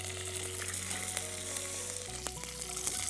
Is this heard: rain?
no